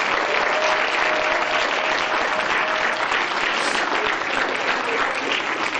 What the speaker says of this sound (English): So let's give those two guys a round of applause.